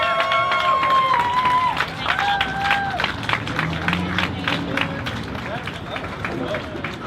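A Broadway buskers audience applauds and cheers after a singer's number, with dense clapping and whoops alongside crowd babble, while shouted voices and sustained vocal tones ring over the noise.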